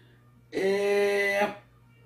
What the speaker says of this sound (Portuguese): Eita, passando a ambulância aí,